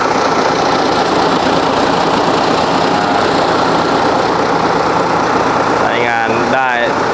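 Up close, an Isuzu 6HK1 diesel engine with an inline pump and 280 horsepower drones loud and steady, a constant heavy rumble, and someone speaks over it near the end.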